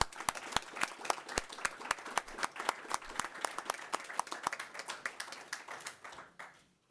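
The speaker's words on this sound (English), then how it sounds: "I would like to request everyone to give her a big round of applause" Applause from a council meeting audience honoring Georgina Morris: sparse, distinct hand claps from a modest group in a room, steady for several seconds then fading out at the end.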